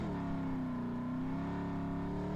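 Car engine from the mobile racing game Deriva Max Pro revving steadily while drifting, a sustained whining drone that shifts pitch slightly, loud and continuous with no talk.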